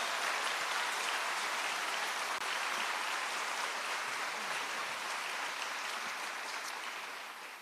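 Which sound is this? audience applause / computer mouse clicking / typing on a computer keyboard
audience applause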